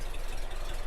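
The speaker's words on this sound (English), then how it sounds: "You can hear it idles very nicely." A 1964 Porsche 356 SC idling steadily close by, a continuous low rumble with a busy, even throb and no talk over it.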